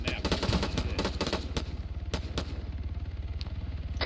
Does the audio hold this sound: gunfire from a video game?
yes